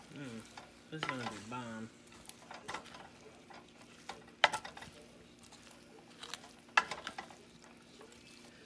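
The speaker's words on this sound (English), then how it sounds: "give this a nice big stir" Roasted Brussels sprouts with honey and bacon being given a big stir in a pan, soft shuffling and scraping with occasional sharp clacks of a utensil; a voice speaks briefly over it.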